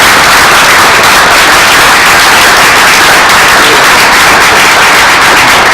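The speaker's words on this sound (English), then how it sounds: "Let's give them a round of applause" A school board meeting audience applauding the South Lenoir school team, dense loud clapping that runs continuously and evenly throughout.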